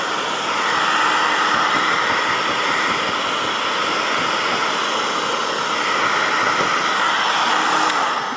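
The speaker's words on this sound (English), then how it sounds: "Try not to get your hand in front of the hot air gun because it is hot" A hot air gun blasts steadily against van paint to soften vinyl decals, a loud, continuous close-up rushing roar with no pauses.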